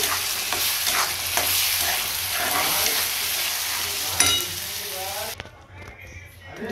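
Blended spinach dropped into a hot pan sizzles loudly while being stirred with scraping strokes, then the sizzle drops away abruptly near the end, leaving quieter pan noise.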